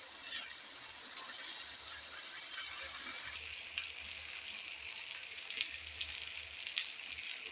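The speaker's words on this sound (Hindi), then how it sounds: "ये देखें, हमने 5 मिनट इसको भूना।" Fish masala fries in a pan with a broad, steady sizzle that drops to a softer crackle partway through, broken by a few light clinks.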